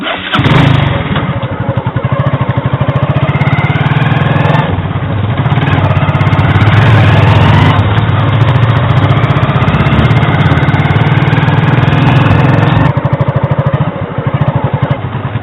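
A motorcycle engine runs loud and close for the whole stretch, a steady throbbing drone with brief shifts in revving and no talk over it.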